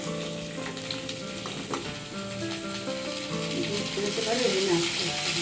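Potatoes frying with tempering spices in a pan while prasad is cooked for the Lokenath Baba festival, giving a steady, continuous sizzle close by with faint voices in the background.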